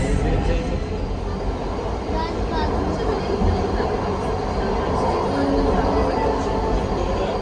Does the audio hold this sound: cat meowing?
no